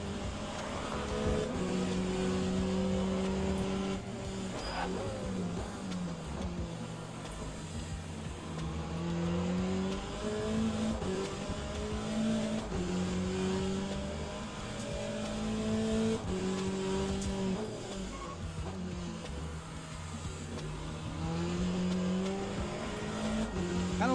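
Race car engines roar around a lap in the video game Le Mans Ultimate, a continuous loud drone that climbs and drops through the gears over the whole stretch.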